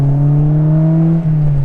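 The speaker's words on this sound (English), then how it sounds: "It just purrs, man. That's the perfect exhaust." A Honda S2000 fitted with a GReddy Revolution RS exhaust holds a steady, smooth, low droning note up close, loud and continuous with only a slight dip, and no talking.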